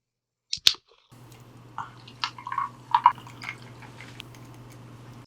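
Cherry Dr Pepper soda poured from a can into a glass, a couple of sharp clicks at the opening, then soft splashing, trickling and fizzing over a low steady hum, close and quiet.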